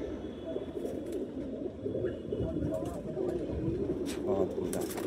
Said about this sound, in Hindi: ये रामपुरी कबूतर है हमारा